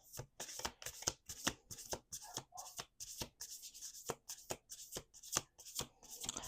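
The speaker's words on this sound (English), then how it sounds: "Last shuffle." Cards riffle and snap in quick repeated bursts, a deck being shuffled by hand up close in a steady rhythm.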